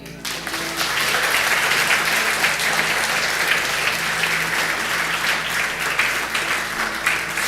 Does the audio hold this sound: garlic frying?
no